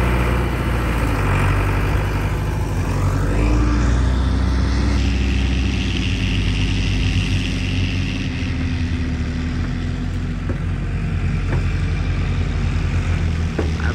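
A tractor engine pulls a sugarcane trailer across a sandy field during harvest, a steady low rumbling drone that stays loud and continuous, with no talking.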